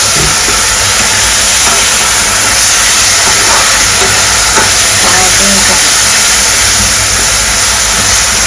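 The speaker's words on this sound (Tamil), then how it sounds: "இஞ்சி பூண்டை போட்டு இப்படி வதக்கிக்கணும்." Loud, continuous sizzling and hissing of ginger and garlic frying in a pan, dense and steady throughout with faint scraping.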